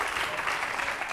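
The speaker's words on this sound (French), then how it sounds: "Vous pouvez applaudir très fort." TV studio audience applause on a French talk-show set, a dense, steady burst of many hands clapping at moderate distance.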